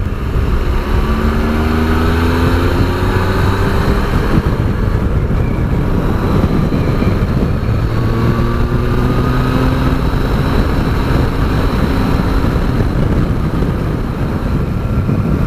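A Triumph Tiger Sport with its 125-horsepower triple engine rides at speed, giving a loud, steady engine drone with wind rush and gentle shifts in pitch throughout, with no talking.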